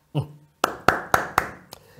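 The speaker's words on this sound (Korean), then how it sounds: "우리 선생님들한테 박수 한번 치자." A few sharp, close hand claps ring out in an uneven rhythm as applause for fellow teachers at a lecture orientation. About five distinct claps follow a brief quiet gap, with no crowd behind them.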